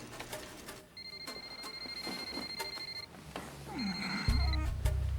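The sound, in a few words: home telephone ringing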